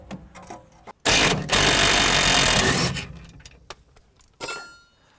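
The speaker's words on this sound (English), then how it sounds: "the best bet for that is a nice big impact gun" An impact gun loosening the rear shock bolt on a Mazda MX-5 NC rattles loudly in a sustained burst of about two seconds, close up, with a shorter burst before it and clinks and rustling after.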